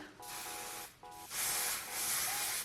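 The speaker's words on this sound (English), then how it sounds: "let me just spray a little bit of this" Short hissing bursts of Color Wow hair volume spray, several sprays in a row with brief pauses between them, close and fairly loud.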